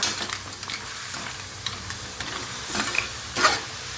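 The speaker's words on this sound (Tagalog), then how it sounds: "Haluin ang haluin hanggang sa mag-mix ang mga ingredients." Ingredients for tinolang tahong are stirred in a pot over a soft sizzling simmer, with faint scraping strokes and light clinks coming at an irregular pace.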